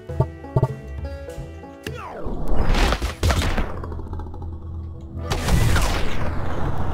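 Explosions from battles in the video game Totally Accurate Battle Simulator, loud booming blasts with crackling debris, several bursts in succession over about seven seconds, no talking.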